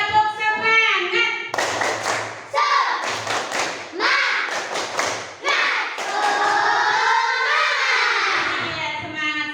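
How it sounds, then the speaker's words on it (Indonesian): A class of children in a primary school lesson claps out a rhythmic patterned clap of quick thuds and pauses, close and loud, with children's voices chanting between the claps. "Kalau masih semangat, tepuk semangat dulu, yuk."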